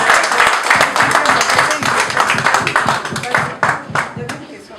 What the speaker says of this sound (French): Et on applaudit pour ça.